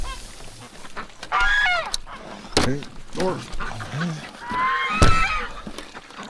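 Winter ducks kept in a snowy yard give several honking, quacking calls at close range, scattered between bursts of a person talking.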